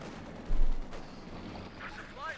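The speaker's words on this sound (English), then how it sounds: "bazooka fire there" A single heavy bazooka shot booms out in the Company of Heroes 2 strategy game, a short loud blast among lighter battle noise.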